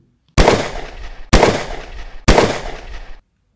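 Three loud gunshots ring out in a western shootout, spaced about a second apart. Each blast is sharp and close, with a long echoing decay.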